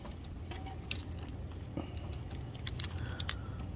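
A key turns in the door lock cylinder of a Mazda RX-7 (FD), making faint metallic jangling and small clicks up close against a low background hum.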